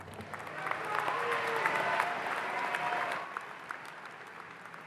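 Audience applause at a Towson University winter commencement ceremony, a steady mid-level wash of clapping from a large crowd that swells and holds for several seconds, with faint voices and scattered whistles mixed in.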